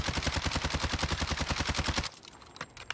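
Rapid automatic gunfire from a shooter video game played with a modded controller, a fast steady stream of loud shots for about two seconds, then cutting off to quieter scattered game sounds.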